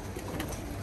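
Pigeons coo softly on a rooftop, a brief low murmuring call heard faintly and alone.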